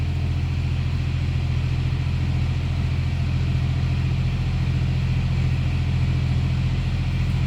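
A 1950 Hudson Commodore inline six of about 232 cubic inches runs steadily, heard from behind the car as a low, even idle rumble that holds constant throughout with no talk.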